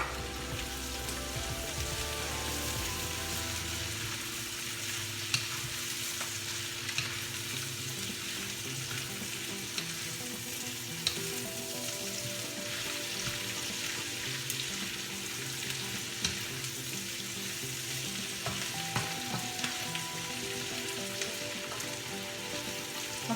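Cabbage and mixed vegetables frying in a pan for pancit canton, a dense continuous sizzle with scattered clicks and scrapes of stirring, steady and close with no talking.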